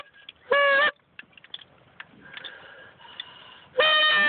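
A person imitates a goose honk with a device, giving two loud, harsh honks a few seconds apart, with softer tapping and faint fiddling noises in between.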